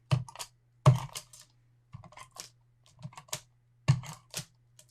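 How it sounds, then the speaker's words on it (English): A tape runner dispensing adhesive strips onto a paper watercolor hibiscus flower during card making, giving a few bursts of close, sticky clicking and rolling sounds in short rhythmic clusters with quiet gaps between. "I think I'm going to just use a tape runner here."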